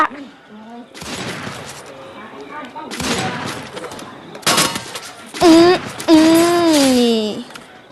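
Gunfire from a shooting video game rings out in sharp bursts and rapid volleys of shots, with someone talking over and between the shots.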